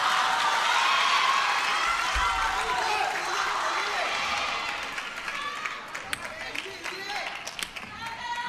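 Audience applause and cheering at a table tennis team quarterfinal match between China and Korea, loud clapping from a large arena crowd that gradually thins and fades, with a commentator speaking over it.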